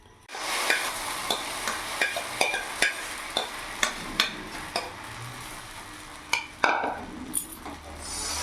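Chira and suji dosa batter is swirled across a hot, unoiled pan, giving a soft sizzle broken by a steady series of light scraping and tapping strokes from the spreading utensil.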